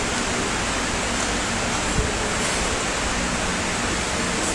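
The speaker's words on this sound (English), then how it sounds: "When the machine water is full, the water will overflow." Water rushes continuously as a JMLB 1232D machine fills and overflows at its overflow outlet, a loud, steady broadband gush lasting throughout with no speech.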